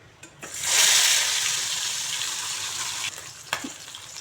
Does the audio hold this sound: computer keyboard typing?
no